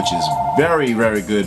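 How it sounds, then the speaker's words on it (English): A telephone rings in the background behind someone speaking close to the microphone; the ring starts alone before his voice and then runs partly masked under the talk. "Sorry about the phone in the background"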